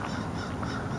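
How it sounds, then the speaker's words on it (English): Geese honking as they take off and fly away outdoors, a brief dense burst of overlapping nasal calls, fairly loud and close. "geese and gooses and well, oh, they're flying away."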